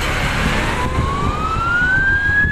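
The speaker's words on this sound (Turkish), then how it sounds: "Evet, ambulansların biri geliyor, biri gidiyor." An ambulance siren wails at a chain-collision traffic accident on the E5 highway near Mengen, Turkey, its tone sliding steadily upward and loud over steady road noise.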